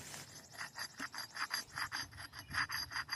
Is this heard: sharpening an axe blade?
yes